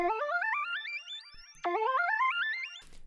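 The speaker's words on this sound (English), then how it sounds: "Next thing I got is this key from Serum, which I made into an arp," Serum synth arpeggio in a new wave beat, rising in quick stepped runs that repeat twice, with delay echoes trailing after each run and a brief noisy burst at the end, heard alone.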